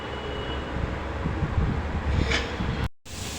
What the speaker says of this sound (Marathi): आता हे मिक्सर एकदम बारीक वाटून घेऊ